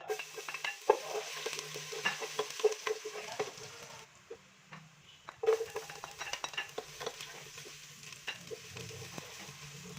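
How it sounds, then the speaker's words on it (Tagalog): Garlic and onion sizzle and fry in a pot as a utensil stirs and scrapes, a steady crackle with occasional clinks, close by. "magpapainit nga lang po pala tayo dyan ng ating kaldero para magisa ng ating bawang at sibuyas"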